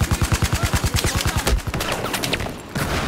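Battlefield 4 gunfire: a rapid burst of automatic shots in a steady fast rhythm for about a second and a half, followed by more distant scattered shots and battlefield rumble.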